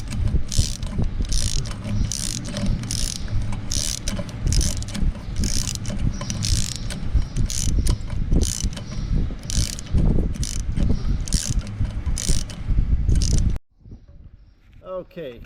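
A ratchet clicks repeatedly while loosening the exhaust pipe clamp on a Case 305 tractor near the turbo, close and busy with clanking metal, then stops abruptly near the end.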